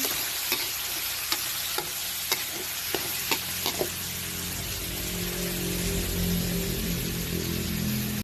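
Squid for adobong pusit frying in a pan, a steady sizzle under a string of sharp clacks and scrapes as a utensil stirs it, the clacks stopping and the sizzle continuing alone.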